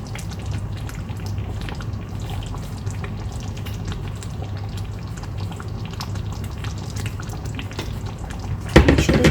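Butter chicken sauce spluttering in a pan over low heat, a steady fine crackle and bubbling throughout, close, with a louder clatter at the very end.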